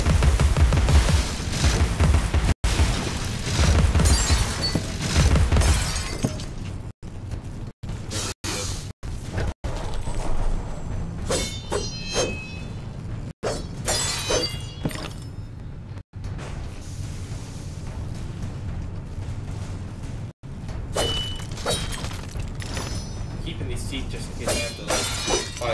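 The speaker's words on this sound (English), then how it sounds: "Pepper grinder Gatling gun" In Alice Madness Returns, a Pepper Grinder Gatling gun fires continuously, a dense, loud rattling stream broken by a few brief pauses, with talk mixed in under the firing.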